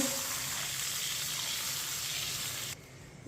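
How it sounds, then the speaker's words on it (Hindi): Water pours steadily into a hot pot with a broad hissing sizzle, stopping abruptly near the end. "अब इसमें पानी डाल लेंगे।"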